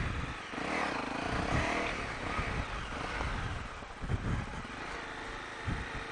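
2018 Honda CRF250L motorcycle riding a wooded trail, its engine droning steadily and close throughout with wind buffeting and occasional bumps.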